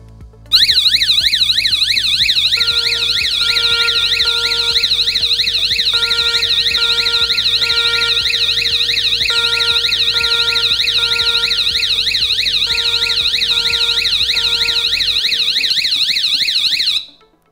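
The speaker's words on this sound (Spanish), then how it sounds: "Voy a lanzar la alarma" A loud electronic security alarm siren from a Risco LightSYS system wails continuously, rapidly sweeping up and down in pitch for about sixteen seconds, with a steady tone layered underneath.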